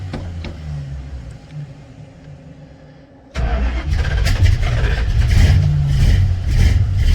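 A 1974 Plymouth Roadrunner with faulty ignition and an empty tank, its starter cranking quietly before the engine catches with a sudden loud burst and keeps running in a rough, rumbling idle up close.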